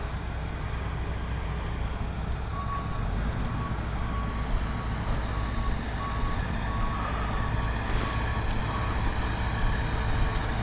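A rotator tow truck backs up toward a 40,000 lb boom lift buried in mud, its steady backup alarm beeping repeatedly over a loud, continuous diesel engine rumble.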